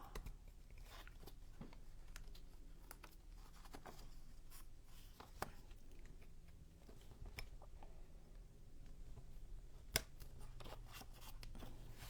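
Quiet, sharp snips and crisp scraping sounds of scissors cutting paper, arriving in irregular bursts close by.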